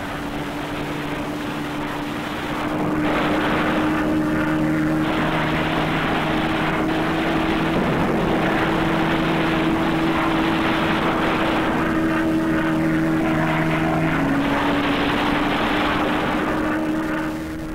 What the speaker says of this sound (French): des P-39 décollent de Port Moresby pour aller mitrailler et bombarder la piste de Lae